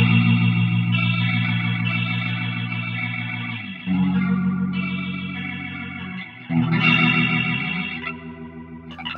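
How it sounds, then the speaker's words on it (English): Electric guitar through the rotary effect of a BOSS GT-8 multi-effects processor, sustained chords swirling with a warbling, spinning modulation, changing chord twice and played alone at a strong level. "Here's the new rotary effect."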